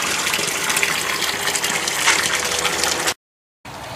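Water gushes in a steady, loud rush as it is pumped out of 400-litre barrels on a garden plot, then cuts out briefly near the end before resuming.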